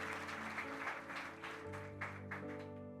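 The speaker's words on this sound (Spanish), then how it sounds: "¿Cuántos pueden dar un aplauso al Señor?" A church congregation applauds for the Lord during a Spanish-language sermon, with steady clapping that blends with sustained organ or keyboard music.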